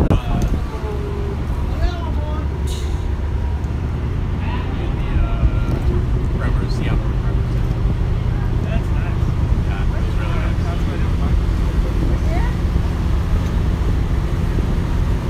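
Loud, steady low rumble of ferry engines with thrust reversers engaged on the water during a Governors Island crossing, mixed with heavy wind buffeting on the microphone and no clear talk.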